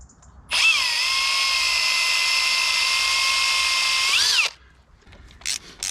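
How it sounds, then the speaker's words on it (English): A power drill bores a small hole in the spinnaker pole of a Drascombe Lugger sailing boat: one steady, close, high whine of about four seconds that dips in pitch as it starts and stops, followed by quiet. "So we need to drill a little hole."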